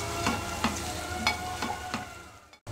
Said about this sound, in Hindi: इसको वापस से हिला लेंगे